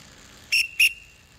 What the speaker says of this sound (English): Here, let me toot the whistle.